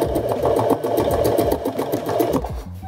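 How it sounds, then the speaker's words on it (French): A sewing machine stitches a zigzag stitch around a patch on an elbow, running close and loud with a rapid, steady mechanical chatter that slows and stops at the end. "Et on passe sous la machine. Et là, on va venir coudre"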